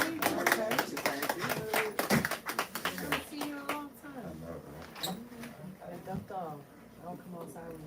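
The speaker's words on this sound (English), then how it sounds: "So if everybody can give him a big round of applause." A small lounge crowd at a live talent showcase gives a solo performer a scattered round of clapping that fades after a few seconds, and then voices speak over it.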